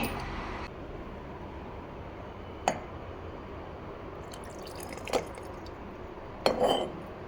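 Cooled oil poured into a bottle of spicy kavale kayi pickle, heard as a few faint, separate drips and light clinks over a quiet room background.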